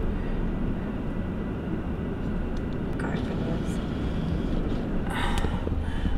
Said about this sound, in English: Let's stop because there's a train.